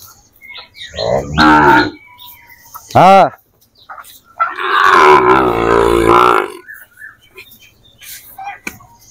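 Sahiwal bull calves in a cattle pen in Dinajpur give several loud, close moos and lowing calls, one long drawn-out bellow among shorter ones, separated by quiet gaps.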